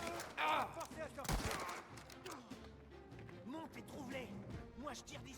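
Sharp gunshots and impacts crack out in a shootout in the video game Mafia: The Old Country, mixed with game sound effects and in-game voices. Players talk in French over the top of it.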